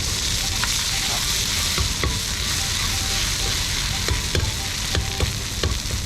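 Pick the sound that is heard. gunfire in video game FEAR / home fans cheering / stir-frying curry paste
stir-frying curry paste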